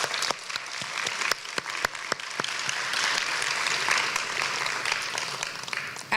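An audience at an honors convocation applauds the awardees with steady, moderately distant clapping and a few sharper individual claps standing out, sustained throughout.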